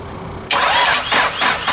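A Nissan Pulsar GTI-R engine cranks on starting fluid, its starter churning loudly in rhythmic bursts after a brief quiet start, up close and with no talk.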